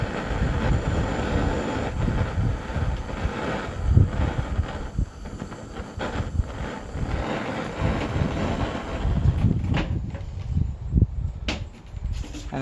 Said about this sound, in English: give it a quick little heat up with a propane torch